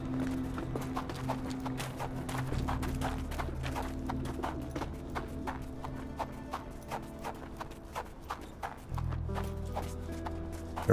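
Horse hooves clip-clop steadily in the adventure game Sherlock Holmes: The Awakened, a brisk, even run of close hoofbeats over a low background hum.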